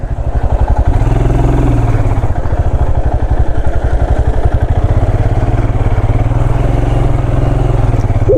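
Motorcycles idle and rev outside a cafe at an eco stay in Purulia, a loud, close, throbbing engine rumble with a rapid regular pulse that swells briefly as a throttle opens.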